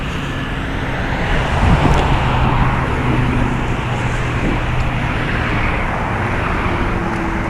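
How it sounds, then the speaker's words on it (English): Steady traffic along a roadway lined with plazas, with cars pulling in and out in a continuous broadband rumble of engines and tires that stays fairly loud and even throughout, with no talking. "Cars pulling out of plazas as I pass by. Cars coming in, cars coming out."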